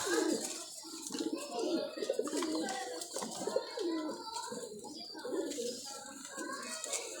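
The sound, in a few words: pigeons cooing, a breeding pair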